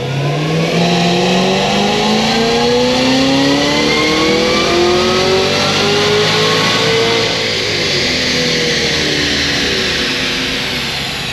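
A Stage 4 Cadillac CTS-V engine on a dyno pull, loud and close, its tone climbing steadily through a long sustained rev before easing off slightly near the end.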